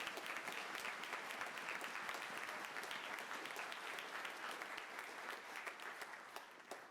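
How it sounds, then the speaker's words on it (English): Sustained applause from a concert audience at an instrumental concert, a dense, even wash of many hands clapping that holds steady before easing slightly at the end. "how about a round of applause for all those folks that are helping us out tonight"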